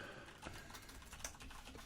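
Fingers tap quickly on a computer keyboard, a faint, steady patter of keystrokes close by with no voices.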